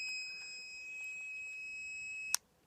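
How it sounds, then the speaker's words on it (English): A steady high electronic tone hums continuously from a pocket radio with low batteries, ending with a sharp click and sudden silence. "I'm gonna put it into a state where it just beeps."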